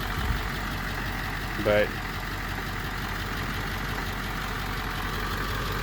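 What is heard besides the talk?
Ford 7.3 Powerstroke diesel engine running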